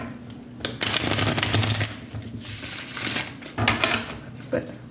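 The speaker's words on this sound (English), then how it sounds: "Oops, that was a bad shuffle." A tarot deck shuffled close up, dense papery riffling and clacking in bursts with brief pauses, with a voice speaking over it.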